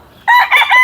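Boston Sweater bloodline gamefowl rooster, an F1 bird, lets out a single loud, close crow, brief and piercing, over a quiet background.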